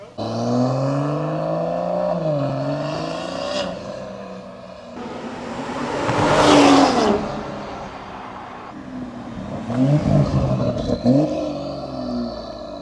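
A BMW M340/M440i aftermarket exhaust with valves open rumbles and revs close by, rising to a loud, raspy roar midway, then settling into a burbling idle with a couple more sharp blips.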